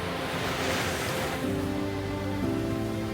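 Sea waves wash and rush steadily against the shore at Morong, Bataan, a constant broadband roar with some wind, no voices.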